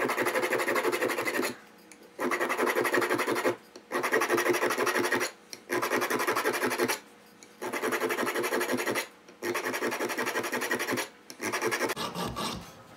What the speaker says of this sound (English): I'm just gonna make a whole bunch of cuts into this shank so the epoxy has got something to grab onto.